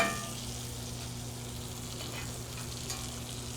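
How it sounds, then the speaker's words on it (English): Steak sizzles in a hot pan as browned butter is spooned over it, a continuous crackling fry with a steady low hum beneath and a few small spatters, fairly quiet and with no talking. "we're gonna go through and just baste it again before we remove them from the pan"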